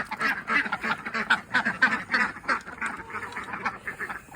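Ducks quack steadily and close by in a garden, with geese and chickens nearby, forming a busy, overlapping chorus of nasal calls.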